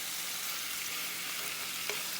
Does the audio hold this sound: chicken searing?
yes